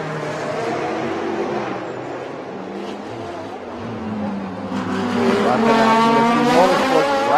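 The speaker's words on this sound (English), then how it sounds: "Daniel Bilski piloting right now what looks to be one of a very fast Audi." A fast Audi GT3 race car runs on a circuit during a race, its engine droning steadily and then rising louder and higher as it accelerates, with faint tyre noise.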